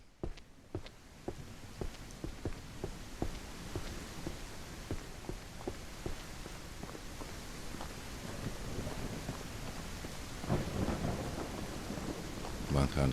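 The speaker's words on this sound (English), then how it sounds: "We don't want any rain inside this lookout." Rain and thunder in the survival game Outbreak Island: sharp cracks and rumbles of thunder repeat over steady rainfall, growing louder and denser toward the end, with faint speech now and then.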